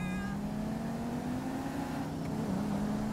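A car engine in the video game GTA 5 hums at a steady, quiet idle-like drone, with a faint swell of revving and no talking.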